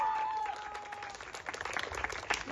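Audience applause at an arts festival in Fordon: broad, steady clapping from a crowd, filling the space continuously with scattered louder claps, while a voice is briefly heard at the start.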